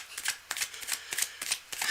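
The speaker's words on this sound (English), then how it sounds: "You can't shuffle the cards for me." Playing cards riffled and bridged in repeated quick bursts during a live tarot-style reading, crisp papery flutters close by with short pauses between, no talk.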